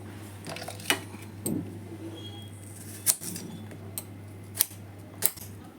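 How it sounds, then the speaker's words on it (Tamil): A knife chops onions, green chillies and tomato in a home kitchen, with several sharp, separate taps against a board over a low steady hum. "இப்போ வெங்காயம், பச்சை மிளகாய், தக்காளி எல்லாம் கட் பண்ணியாச்சு."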